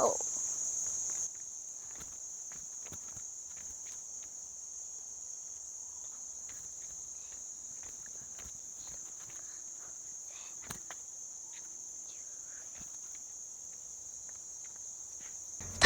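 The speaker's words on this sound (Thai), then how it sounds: "และได้ยินเสียงแมลงตลอดเส้นทางเลยค่ะ" Insects chirp in a continuous, steady high drone along a shaded forest nature trail, loud and unbroken throughout, with faint footsteps and occasional small taps underneath.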